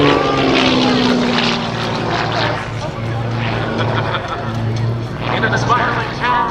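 A GB1 GameBird aerobatic propeller airplane performs at a military air show, its engine roaring and shifting in pitch as it maneuvers, while an announcer talks over it.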